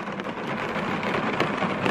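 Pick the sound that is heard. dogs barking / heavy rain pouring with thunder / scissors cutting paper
heavy rain pouring with thunder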